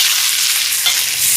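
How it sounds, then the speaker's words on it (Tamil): Onions and curry leaves sizzle steadily in a hot pan, a close, continuous hiss with a faint stir, and no voices. "இப்போ பாருங்க வெங்காயமெல்லாம் நல்லா வதங்கி வருது"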